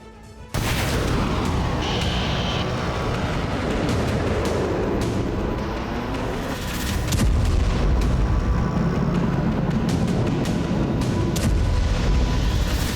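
Heavy, loud booming explosions and rumbling blasts from Russian missile strikes in Ukraine, repeated irregularly over a constant roar, with a stronger burst partway through.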